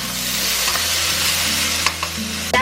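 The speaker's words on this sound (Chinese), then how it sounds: "接着喷入一些米酒去腥增香，" Rice wine hits a hot wok of pork ribs with ginger, scallion, star anise, bay leaf and cinnamon, raising a loud steady sizzle, with a few light clinks of a utensil near the end and no talking.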